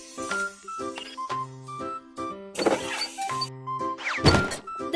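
Bursts of hissing air from a car tire being pumped up in a video game, arriving in two short rushes over bright, chiming game music.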